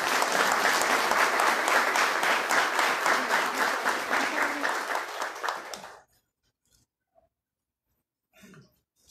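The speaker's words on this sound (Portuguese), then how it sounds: "Uma salva de palmas, senhores e senhores" Audience at a municipal ceremony for honorary citizenship titles claps loudly and steadily for about six seconds, then stops abruptly, leaving near silence with a brief faint murmur near the end.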